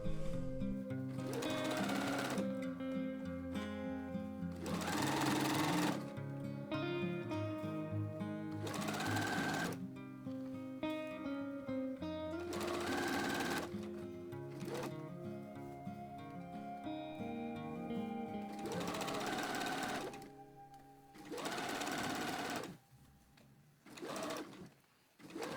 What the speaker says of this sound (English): Now I am sewing again